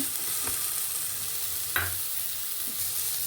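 Chopped capsicum sizzles in hot oil for a village-style country chicken biryani, a steady close frying hiss broken by a few soft scraping stirs of a spoon in the pan.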